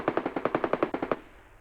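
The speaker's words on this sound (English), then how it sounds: "Somebody took 2 shots at me with the silenced rifle." Rapid burst of about ten suppressed rifle shots in the VR game Tarkov, evenly spaced and sharp, loud and close, trailing off into a brief fading tail.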